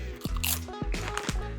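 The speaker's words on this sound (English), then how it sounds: "It's like a ketchup flavor infused in a nice salty crunchy potato chip." Crunchy bites into a salty ketchup-flavoured potato chip, a few sharp crunches spaced apart with softer chewing between, close and clear with no talking.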